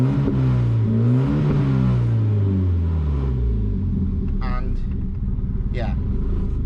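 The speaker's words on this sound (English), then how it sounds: "you can hear the intake noise goes very different" Volvo 940 Turbo on a standard LH4.2 engine with switchable anti-lag, idling and revving with distinct intake and exhaust notes, rising and falling engine tones, close and loud, with brief sharp chirps near the end.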